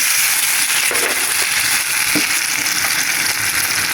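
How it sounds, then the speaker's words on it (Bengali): Water added to onions fried red in leftover fish-frying oil, a loud dense steady sizzle and bubbling hiss close up, with faint stirring knocks and no talk. "পেঁয়াজটা লাল হয়ে গেছে এখন পানি দিয়ে দিলাম"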